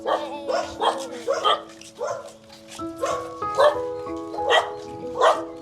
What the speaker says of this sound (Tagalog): Yung aso. Yung aso.